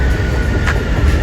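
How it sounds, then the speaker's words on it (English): A train rolls through a city neighbourhood, a loud, close rumbling rush of wheels and carriages with a faint hiss, steady for the brief moment. "I just missed the train"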